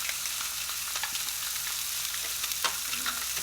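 Fish frying in a pan with garlic, black pepper and chili flakes, a close, continuous sizzle with small crackles and a brief stirring scrape, and no talking.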